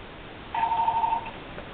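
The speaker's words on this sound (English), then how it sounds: "Somebody's phone is ringing." Phone ringing, a single short electronic tone lasting well under a second, fairly faint against a quiet room background with no talking.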